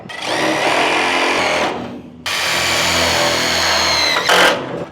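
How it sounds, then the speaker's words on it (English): A power drill drives a self-tapping screw into the body of a 1967 Mustang fastback, whining in two long, close, loud bursts separated by a brief pause, ending in a short high spurt. "Now I'm gonna re-bolt it in just by literally putting a self-tapper into it."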